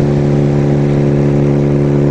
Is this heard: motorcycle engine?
yes